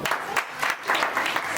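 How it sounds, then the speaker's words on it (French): Wedding guests at a religious ceremony in Vitry-sur-Seine applaud together, a short burst of moderately loud clapping that swells and ebbs in pulses, with no talk over it. "Sur les acclamations."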